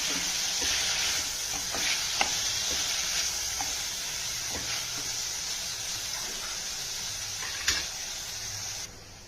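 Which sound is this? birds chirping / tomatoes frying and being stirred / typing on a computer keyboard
tomatoes frying and being stirred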